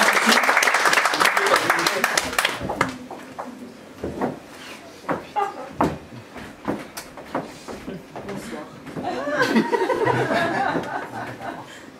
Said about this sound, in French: Ah, on peut l'applaudir s'il vous plaît, venez.